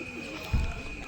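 Domestic loft pigeons in Murshidabad give a single low, muffled coo over a quiet background hum.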